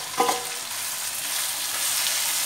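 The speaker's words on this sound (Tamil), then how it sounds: "இப்போ நல்லா வதங்கி விட்டு அடுத்தது நம்ம கோவக்காய் போடுவோம்." Ivy gourd sautéing in a pan for kovakkai masala gives a steady soft sizzle and fry hiss, with a brief stirring clatter near the start and no talk.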